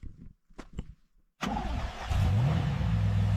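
A turbocharged Chevrolet Camaro engine cranks and catches after a few faint clicks, then settles into a loud, close rumble that rises in pitch as it revs, with a steady idle underneath.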